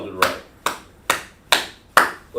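Five distinct hand claps land at a steady, even pace, each a sharp close burst with a short decay, while a voice talks in the room between them.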